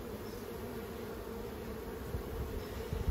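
Honey bees droning steadily around an open hive during hive maintenance, a dense continuous buzz with a few louder swells near the end.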